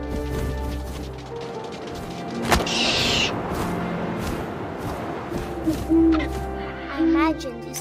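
An owl gives a couple of short low hoots in What Remains of Edith Finch, moderately loud over a constant windy ambience with a sharp thud partway through.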